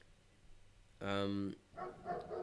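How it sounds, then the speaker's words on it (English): A dog gives one loud, close bark that stands out clearly from quiet room tone, followed by softer vocal sounds. "And Gregory, oh, this is a dog barking."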